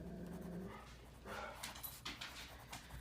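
A dog up at a window makes low, restless panting and soft whimpering sounds, fairly quiet and close, with a few brief yips and shuffling noises over a steady room hum.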